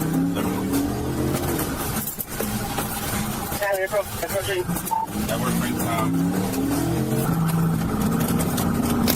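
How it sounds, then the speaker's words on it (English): A car accelerates hard at high speed during a rally, its engine roaring loud and continuous with tire noise, while a voice talks over it throughout. "The suspect suddenly accelerated, driving at a crazy speed, disregarding the danger on the crowded road"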